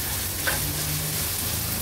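Crushed ginger and garlic with green chillies and onion frying in hot oil in a pan, a steady soft sizzle with a brief stir, no talking.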